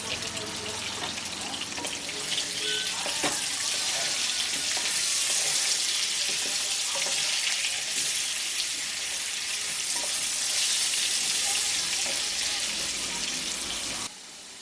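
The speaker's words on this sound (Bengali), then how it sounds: "এখন আলুগুলোকে হালকা বাদামি রং করে ভেজে নিচ্ছি।" Potato pieces frying in hot oil for a Bengali chicken dopiaza, a steady, bright sizzling hiss that holds evenly for the whole stretch before cutting off abruptly at the end.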